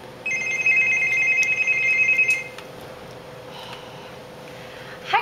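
A phone rings with a bright electronic trill of steady high tones for a couple of seconds, then falls silent, leaving quiet room tone behind.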